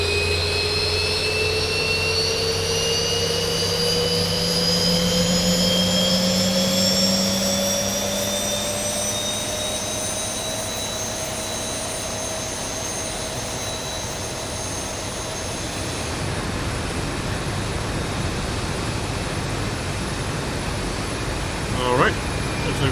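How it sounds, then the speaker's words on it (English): Boeing 737-800 jet engine spooling up in the X-Plane 11 flight simulator, a steady rising whine and roar that climbs in pitch, then settles into a broad rushing hum with a brief click near the end. "we got a good engine number 2 start"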